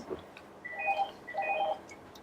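A telephone rings in a computer repair workshop, two short electronic warbling trills close together, moderately loud over quiet room noise, with no speech.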